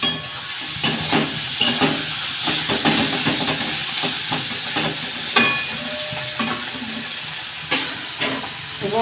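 Soya pakoras sizzle and crackle in hot oil, a close, busy frying hiss with repeated sharp bursts and spatters as pieces are turned or dropped, no voices over it.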